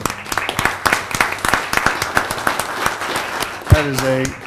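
An audience at a town council meeting gives a round of applause, a burst of many close, crisp claps, with a voice speaking over the end.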